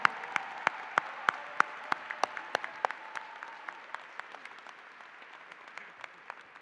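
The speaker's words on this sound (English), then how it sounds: "give another round of applause for a man who didn't turn his back on Virginia State University" Applause for a man honored at a Virginia State University fall commencement ceremony: sharp claps burst from the crowd, thinning to scattered spaced claps that continue at moderate loudness and slowly fade.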